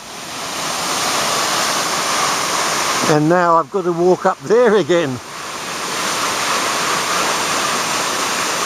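Queen Mary Falls pours down rock in a steady, loud broadband rush, with someone speaking briefly over the cascade partway through.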